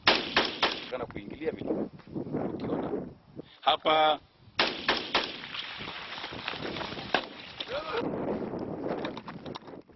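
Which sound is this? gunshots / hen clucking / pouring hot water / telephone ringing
gunshots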